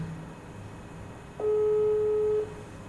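A steady electronic ringing tone from an outgoing phone call sounds once for about a second, clear and level over a quiet room background.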